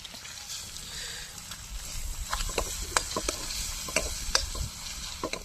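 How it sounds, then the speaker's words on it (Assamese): Two eggs are fried in hot oil alongside fish in a home kitchen, giving a moderate sizzle with repeated scraping and tapping as a spatula stirs the pan. "এতিয়া দিম মই কণী দুটা কণী দিলে"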